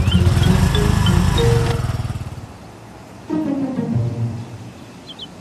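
A vehicle engine starting and running, a loud rumbling idle up close that fades off, then a second burst of engine rumble returns, with no talk over it.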